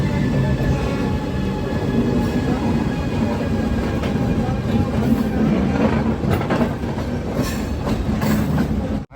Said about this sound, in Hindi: इंडिया का सबसे पावरफुल लोकोमोटिव पैरेलल में रन कर रही है।